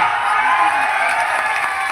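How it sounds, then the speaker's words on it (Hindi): Dense, steady clapping mixed with cheering and shouts from a large crowd at an outdoor political rally in Bihar, with no pauses and no clear voice over it. "भाई ये ताली उली बजाना बंद कर दो"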